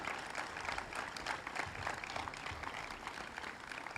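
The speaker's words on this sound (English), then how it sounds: "how about a round of applause for all of our campus partners?" An audience at the grand opening of the O'Loughlin Family Champions Center claps for campus partners, a steady, moderately loud patter of many hands lasting a few seconds without speech.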